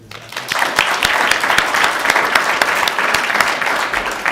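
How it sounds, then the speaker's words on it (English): An audience at a school board meeting bursts into applause for a hurdles runner, the clapping swelling quickly and staying loud and dense with distinct sharp claps. "We clap for him"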